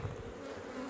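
Honeybees drone around an open hive during a late-season check before winter, a steady close buzz with no voices over it.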